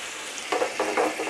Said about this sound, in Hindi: इन सारे स्पाइसेस को भून लेते हैं।